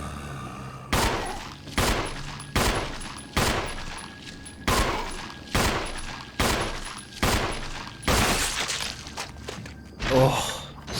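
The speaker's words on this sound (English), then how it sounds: "the sploosh sound when their heads explode" Zombie heads bursting with wet splooshes in Resident Evil HD Remaster, set among a steady run of about ten evenly spaced loud gunshots, with a last burst near the end.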